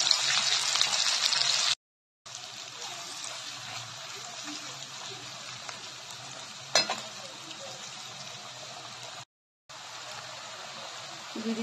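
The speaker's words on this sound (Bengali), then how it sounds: "এরপর আমি এখানে গরম তেলেই দিয়ে দিচ্ছি একটুখানি কালো জিরে, দিয়ে দিচ্ছি চেরা কাঁচা লঙ্কা, আর দিয়ে দিচ্ছি পেঁয়াজ বাটা।" Nigella seeds, slit green chillies and onion paste frying in hot oil for rui posto, a bright hissing sizzle that is loudest at first, then settles into a steady crackle with two short breaks.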